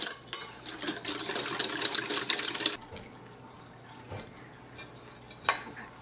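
A utensil stirs wet snowy durian mooncake batter with vegetable oil in a bowl, brisk scraping and clinking for a few seconds, then quieter, sparser taps and knocks.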